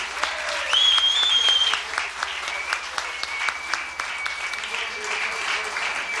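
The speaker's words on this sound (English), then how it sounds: "a big round of applause for former NWA and former WWF Heavyweight Champion Buddy Rogers" A press-conference crowd applauds former NWA and WWF Heavyweight Champion Buddy Rogers, steady dense clapping filling the room with a few voices and whistles over it.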